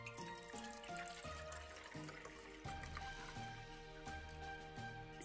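Water is poured into the humidifier tank of a YOKEKON 2-in-1 tower fan heater (model LCD-HT-2305), a quiet, steady trickling stream that carries on without a break under low background hum.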